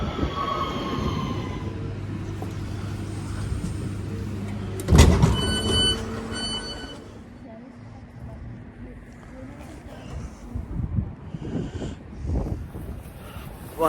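A Cross Country train pulls into Lichfield Trent Valley station on a wet, windy day, a low rumble with a sharp metallic clank and squealing brakes partway through, while people talk nearby.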